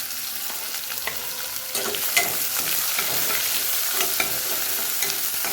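Onion, curry leaves, potato and vegetables frying in oil for a simple vegetable pulao, a steady close sizzle broken by occasional scraping stir strokes in the pan.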